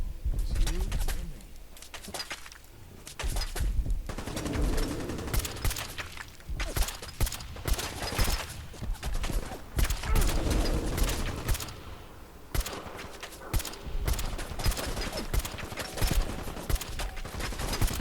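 Gunfire in Fallout 4 from an inaccurate gun: scattered sharp shots and bursts through a busy, noisy game soundscape with steady background din, no talk.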